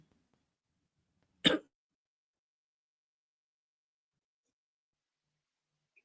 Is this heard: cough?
yes